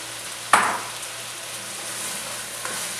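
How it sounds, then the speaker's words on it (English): Green chili peppers hit a hot pan with one sudden loud sizzle that fades into a steady frying hiss, with a faint second crackle near the end; no speech. "I add my peppers."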